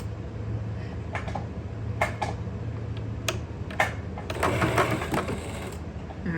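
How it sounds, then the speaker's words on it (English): A sewing machine stitches a quarter-inch seam on a fall home decor project, quiet rapid ticking and whirring bursts that start and stop irregularly, heard up close. "I'm gonna sew a 1/4 inch all the way around."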